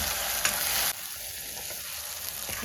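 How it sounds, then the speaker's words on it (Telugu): Chopped tomatoes sizzle and fry in a hot pan while being stirred for a soya keema curry, a steady close crackle that drops to a softer simmer partway through. "ఇప్పుడు టొమాటోస్ వేసుకున్నామండి టొమాటోస్ బాగా మగ్గాలండి"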